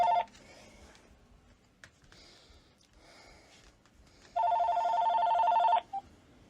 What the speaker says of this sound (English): I was talking and then the phone started ringing.